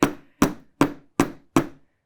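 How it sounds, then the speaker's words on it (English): Five light, evenly spaced hammer taps on small metal earring pieces, sharp and close, each ringing briefly before the next strike. "I find it really fun to just hammer them a little bit"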